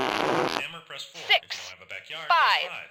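A broadband fart noise blurts out at the start, followed by a string of short squeaky, comical electronic sound effects.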